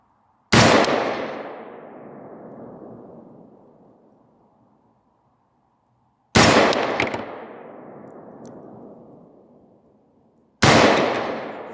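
Three sharp pistol shots from a handgun fitted with a Holosun 503G sight ring out several seconds apart outdoors, each loud crack followed by a long rolling echo that fades to silence.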